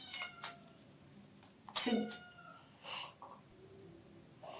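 An indoor cat meows several times in short, separate calls, some close and fairly loud and others softer, with quiet pauses between them.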